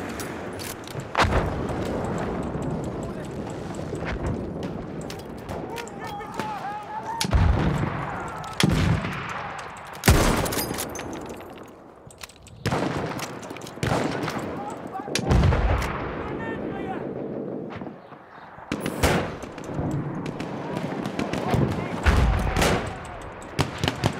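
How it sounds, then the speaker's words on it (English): Gunfire in the video game Battlefield 1, with machine gun bursts and heavy booming shots in repeated loud volleys and scattered single cracks throughout, dense and close with little pause. "Machine gun! Dive!"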